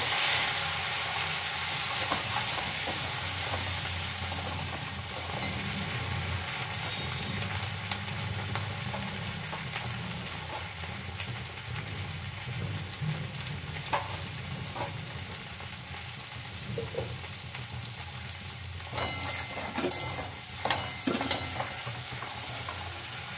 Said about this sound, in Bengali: এরপরে দিয়ে দিলাম একটু টমেটো।